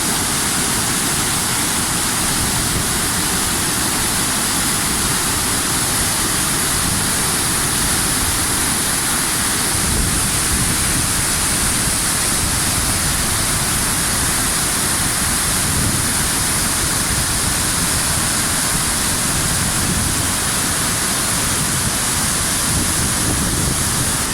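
Çündüre waterfall near Antalya, Turkey, spilling over rocks into the Alara stream below: a steady, dense roar of falling water that stays constant and fairly loud throughout, with no voices.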